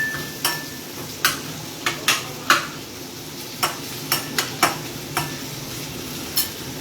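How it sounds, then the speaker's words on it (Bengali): Onions fry in a pan on medium flame for chana dal, a soft sizzle running underneath as a utensil scrapes and taps the pan in irregular, fairly sharp strokes. "এবার পেঁয়াজটাকে ভালো করে ভেজে নেব যতক্ষণ না গাঢ় বাদামি রং আসছে।"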